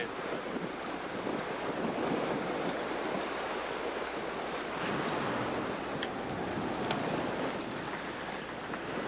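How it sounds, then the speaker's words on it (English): Big waves and strong wind on a sailboat in the mid-Atlantic, with steady roaring gusts, rushing water along the hull and wind buffeting the microphone, continuous and close, with no talking. "Big waves."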